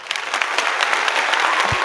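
Steady, dense applause from a group fills the whole stretch, loud and even, with a small thump near the end and no voices.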